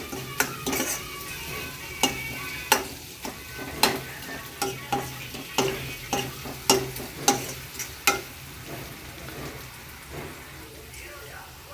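Onions with salt and turmeric fry in a pan, a steady sizzle under a run of regular, sharp spatula scrapes and taps against the pan, close and fairly loud, with some faint background voice.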